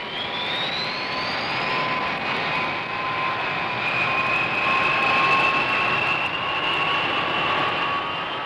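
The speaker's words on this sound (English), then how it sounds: "Everything ready, the B-52s taxi out and are soon on their way." B-52 bomber jet engines roar steadily while the aircraft taxi out, a loud, continuous whine with a high rising tone that holds throughout, no voices.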